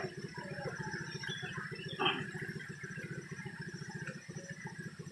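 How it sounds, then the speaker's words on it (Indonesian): An old motorcycle engine idles steadily and close by, with a rapid, even putter throughout and one brief louder clatter around the middle. "Motor udah tua, mati-matian. Nyala lagi Pak."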